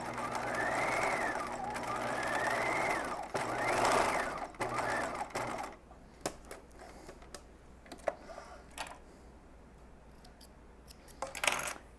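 A sewing machine runs a 1/4 inch seam close to the fabric edge while making a wiggle dress, a steady whir in two bursts over the first half, followed by quieter handling clicks and snips.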